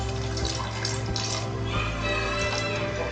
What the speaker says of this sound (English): Now we will add half a glass of water in it.